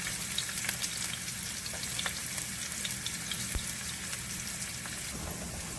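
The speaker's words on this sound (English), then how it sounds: "we'll let our onions fry a little bit" Onion, sweet pepper and scallion fry in a skillet with a steady, close crackling sizzle that holds evenly throughout, broken by a few light clicks and one brief low knock of a utensil against the pan.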